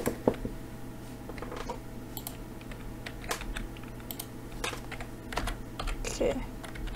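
Fingers tap on a new backlit computer keyboard, scattered quiet clicks in irregular bursts against a low steady hum, with faint talk in the background.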